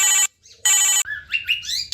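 An incoming-call phone ringtone plays loud and close in two bursts with a short gap between them, then a warbling melodic tone follows.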